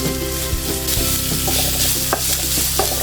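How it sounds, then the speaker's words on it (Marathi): Carrot, cabbage and capsicum stir-fried in oil over a high flame, with a steady loud sizzle throughout and scattered scraping stirs of the spatula, no talking. "अर्धा कप गाजर अर्धा कप कोबी आणि अर्धा कप शिमला मिरची मोठ्या गॅसवर चांगलं परतून घ्यायचं आहे"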